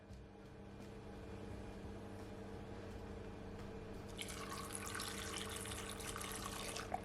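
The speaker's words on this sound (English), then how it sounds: "So I'm gonna add at least 1 cup of water" About a cup of water pours into a blender of carrot, apple and ginger in a steady, splashing stream that starts midway and keeps running, over a low background hum.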